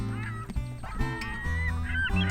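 Seagulls call in a quick run of harsh, nasal cries, loud and close, with several squawks overlapping.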